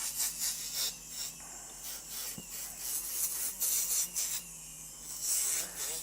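A clear Essix dental retainer is polished with a fine abrasive, giving a steady, close, dry rubbing and rasping that rises and falls in short strokes with no talk.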